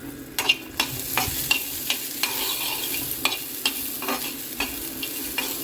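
Sprouts sautéing in a pan with a little oil, with a steady soft sizzle broken by regular scraping spatula strokes about every half second, close and alone without talk.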